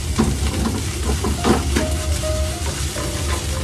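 Fried rice is stir-fried in a non-stick frying pan, with a steady loud sizzle under repeated scraping strokes of a utensil against the pan's coated surface.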